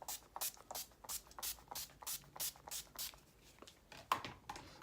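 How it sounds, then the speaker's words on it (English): Urban Decay De-Slick setting spray mists onto a face in about a dozen short, crisp pump bursts, fairly regular and close up, with no talking. "So now I'm just going to go in with the De-Slick Urban Decay setting spray."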